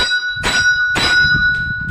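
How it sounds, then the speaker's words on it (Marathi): A temple bell rings twice, loud and close, each strike leaving a bright lingering tone, with faint shuffling noise underneath. "घंटी परत एकदा वाजतो"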